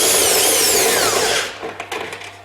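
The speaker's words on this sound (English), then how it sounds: "I can use this little bit faster impact wrench, and I insert my socket in here, and this is first bolt" An impact wrench with a socket spins out a bolt on a Toyota Corolla (2007–2018) windshield wiper motor, a loud close whirring burst lasting about a second and a half, then dropping to light rattles and clicks.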